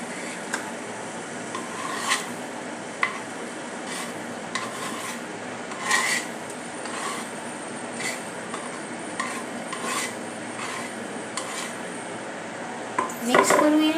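Potatoes in a pan being stirred and tossed, a continuous close scraping and rasping of a utensil against metal with light repeated knocks and a clatter near the end.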